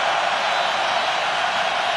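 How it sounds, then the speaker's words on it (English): Miami Hurricanes fans roar at a college football ACC Championship game against Clemson, a steady, dense wall of stadium crowd noise with no break, loud and sustained throughout. "Miami crowd making some noise"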